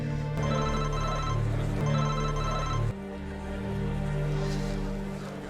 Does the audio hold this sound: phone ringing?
yes